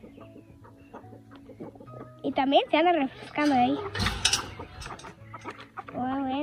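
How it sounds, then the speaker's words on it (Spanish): Chickens cluck and squawk while feeding and drinking water in a yard, a rooster among them, with close, busy bursts of calls mixed with a person talking. "aquí están las gallinas comiendo"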